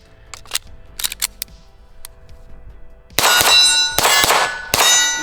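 A Taran Tactical Pit Viper pistol is fired at steel targets: a few sharp bright clangs first, then a loud rapid string of shots with ringing metallic hits that sustain and overlap.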